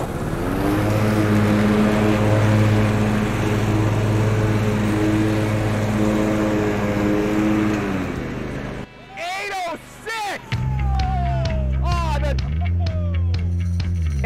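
Zero-turn lawn mowers, a Bad Boy, a John Deere and a Scag, drone loudly and steadily with a constant engine hum for about nine seconds, then a lower engine continues beneath bursts of whistling or squealing tones.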